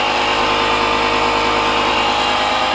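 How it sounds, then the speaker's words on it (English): A portable jump pack with built-in air compressor runs steadily and loudly while inflating underinflated tires on a 2011 Chevy Impala, a constant buzzing whine with no speech over it. "jump pack / compressor"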